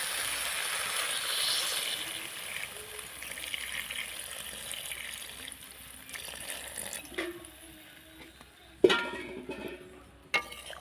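Water poured from a vessel into a pot of Bengali-style soybean and potato curry, a soft broadband rush over the first seconds that tapers off, followed by a few clanks of utensils near the end.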